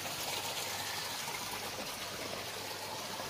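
Water swished in a bucket with a stick at a koi farm, giving a steady trickling, sloshing wash that runs continuously at moderate volume with no voices.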